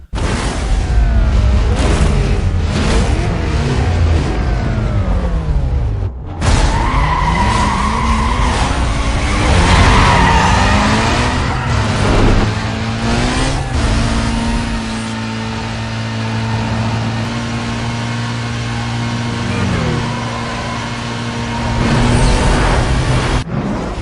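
Street race cars in Need for Speed Most Wanted roar loudly throughout, with revving engines, gear shifts, tire squeals and skids, and a brief crash-like boom around the middle.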